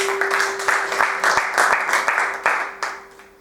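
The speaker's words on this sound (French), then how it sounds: "Est-ce qu'on peut acclamer pour le Seigneur?" A congregation applauds for the Lord at a French-language church service, with steady, fairly close clapping that fades out toward the end, while a sustained tone hums underneath.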